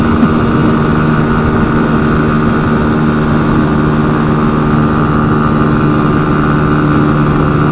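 Benelli TNT 135 motorcycle engine held at wide open throttle near redline around 71-72 mph, a loud, steady, unbroken drone with strong wind rush, close and continuous throughout.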